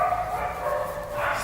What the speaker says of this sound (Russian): вот собаку слышно. Сильно.